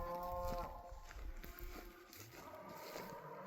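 A branded range cow lowers a few low moos on an open creek-side hiking trail in late August, with faint outdoor rustle around it and no talk.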